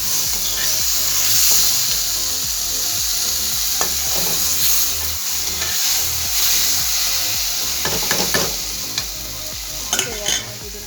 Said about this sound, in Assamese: ইয়াত মই আকৌ কিছু সময় ভাজিম।